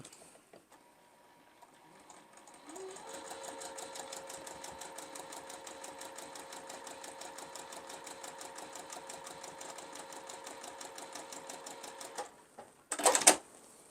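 A sewing machine stitches a seam on a log cabin quilt block with a rapid, steady mechanical chatter that lasts about nine seconds. It stops abruptly and is followed by a brief clunk, with no talk.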